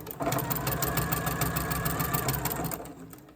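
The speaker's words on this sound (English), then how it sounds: "I want it on when I finish sewing the rest of the continuous binding to the quilt top" A sewing machine fitted with a walking foot stitches binding onto a quilt top, a steady close mechanical whirr with rapid even needle beats that runs unbroken before tapering off at the end.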